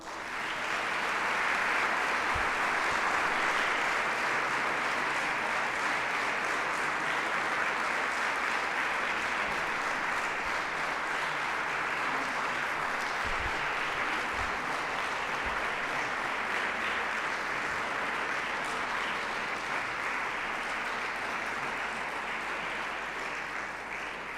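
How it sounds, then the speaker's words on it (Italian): A concert audience at a Christmas charity show gives warm, sustained applause to welcome a children's junior choir, a dense, even wash of clapping that holds steady for the whole stretch with no voices over it. "accogliamo con un calorosissimo applauso i ragazzi del Cosmo Coro Junior"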